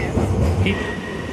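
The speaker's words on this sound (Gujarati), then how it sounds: "આ એ ટ્રેન છે જે હીથ્રો એરપોર્ટ સુધીને જાય છે" A London Underground Piccadilly line train bound for Heathrow, heard as a steady low rumble with a rising whine, with people talking over it.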